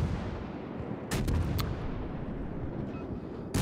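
Six-inch guns of the Mogami cruiser firing in World of Warships, a loud booming salvo with a few quick sharp reports over steady low rumbling battle noise.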